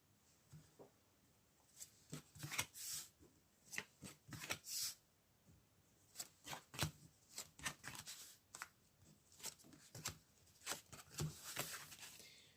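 Tarot cards being shuffled and drawn by hand, a steady run of crisp riffling slaps and soft card snaps up close, continuing without pause throughout.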